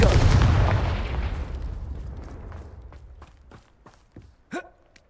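A Confringo spell is cast in Hogwarts Legacy with a booming blast that rolls off and decays, followed by a scatter of small thuds and footstep-like taps fading quietly.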